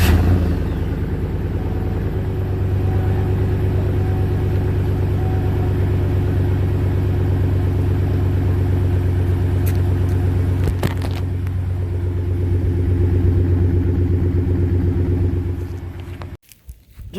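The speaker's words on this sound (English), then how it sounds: "go ahead and insert the 2 clips from the stock exhaust" A car engine running through its stock exhaust, a low steady idle rumble with a slight swell in the middle, heard alone at moderate loudness before cutting off near the end.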